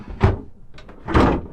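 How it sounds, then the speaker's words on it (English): Drawers in an Auto-Sleepers Winchcombe motorhome being pulled open or pushed shut, three close, hollow wooden thunks in quick succession with no talking. "Underneath that, 3 more drawers."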